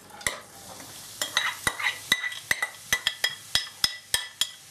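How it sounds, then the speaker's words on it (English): Grated doodhi stirred in melted ghee for halwa, a faint sizzle under a quick series of sharp, evenly spaced spoon knocks and scrapes against the pan. "And stir it."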